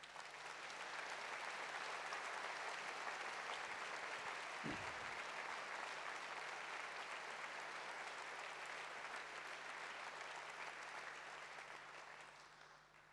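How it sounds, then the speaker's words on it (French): An audience at a town hall New Year's address in Vichy applauds the construction workers on a building site, a dense sustained ovation of many hands that holds steady and fades slightly at the end. "je vais vous demander de les applaudir"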